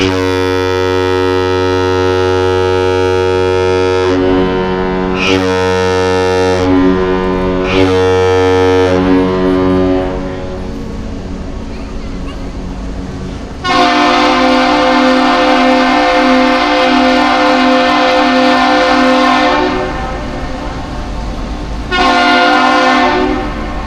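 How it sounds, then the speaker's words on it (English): The Great Lakes freighter Mesabi Miner's deep whistle blows one long and two short blasts, answered by Duluth's lift bridge horn, loud, with the same long and two short pattern. "One long and two short whistle exchange that you just heard between the Mesabi Miner and the lift bridge operators"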